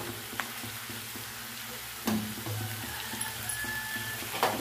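Drumstick leaves (shevga bhaji) sautéing in a pan with chutney and homemade masala, a constant close sizzle with light scraping and tapping as the greens are turned, and no talking.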